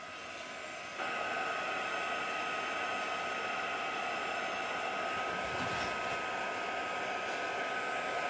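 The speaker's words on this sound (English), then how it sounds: "So using a heat gun to dry it off" A heat gun blows steadily to dry watercolour paint on a scrapbook page, a constant close whooshing whine that kicks up louder after a second and holds with no talk.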